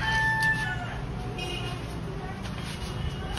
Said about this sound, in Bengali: সাদা মুরগিটা